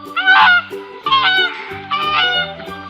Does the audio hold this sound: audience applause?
no